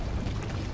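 A turret blows up in the League of Legends video game, a dense, low rumbling boom that holds steady through a short burst with no voices over it.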